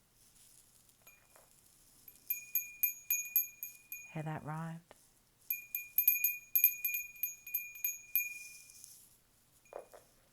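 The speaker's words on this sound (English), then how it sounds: "I'm going to ring the bell and call it a day." A small bell rings in repeated quick bright strikes, two clusters of clear ringing tones separated by a brief spoken phrase, quiet and close with soft shimmer trailing at the end.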